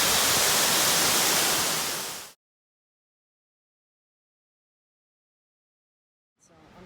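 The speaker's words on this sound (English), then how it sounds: "Now that is a waterfall." Roaring waterfall at Kings Creek Falls in Lassen Volcanic National Park, a dense steady rush loud for about two seconds, then cut to silence before the roar returns faintly at the end.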